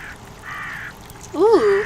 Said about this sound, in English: I like crows.